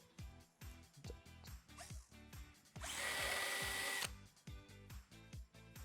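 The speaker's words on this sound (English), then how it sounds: "Then, drill a larger hole for the size of the rivet." Electric drill boring a larger rivet hole through a pilot-drilled part in a shop, a steady high whine for about a second amid repeated clicks and tool handling noises.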